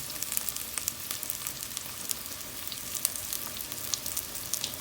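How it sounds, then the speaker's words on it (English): Garlic sautés in a pan for buttered garlic shrimp, giving a steady close crackling sizzle with scattered pops throughout, no voices. "we need to saute our garlic first"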